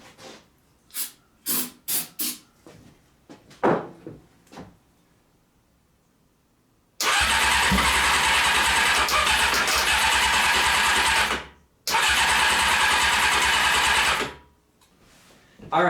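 A Honda CBR600 motorcycle engine with the choke on is started, giving two long, loud roaring bursts of several seconds each, split by a brief pause, after a few scattered short knocks and clicks.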